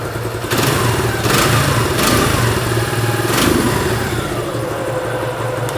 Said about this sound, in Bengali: বাইকটা কিন্তু স্টার্ট করা হয়েছে আর আপনার সাউন্ডটা শুনতে পাচ্ছেন আশা করি